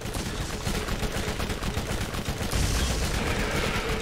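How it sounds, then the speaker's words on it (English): Rapid explosive blasts from a rocket launcher in the video game Borderlands, fired at alpha skags, dense and loud with repeated bursts, growing heavier toward the end, with no voices. "Oh man, this rocket launcher messes up Alpha's guy."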